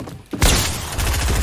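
A minigun firing in Fortnite, opening with a sudden loud burst after a brief quiet and then continuing as dense, sustained rapid fire close up.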